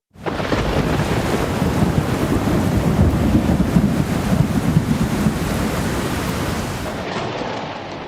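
Heavy rain pours down during a North Gujarat storm as a steady, loud, dense roar mixed with wind noise, continuing without a break before cutting off abruptly.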